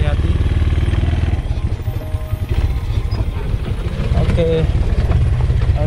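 An off-road ATV engine runs steadily at low throttle, coasting down a narrow plantation trail, its loud rumble continuous throughout while a person talks over it.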